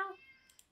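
A person imitates a cat's meow with a single short, voiced call that trails off quickly, followed by faint clicks in near silence.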